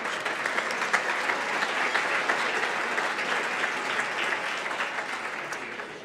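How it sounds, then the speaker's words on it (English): Applause from a large conference audience honoring event sponsors, steady dense clapping sustained at a loud level for several seconds without pause. "give a big round of applause to all of our sponsors"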